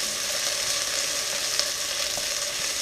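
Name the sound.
onions sautéing in a hot pan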